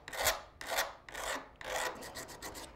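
A mosaic piece has its rough edges filed off in four close, steady rasping strokes with short pauses between them and no talking.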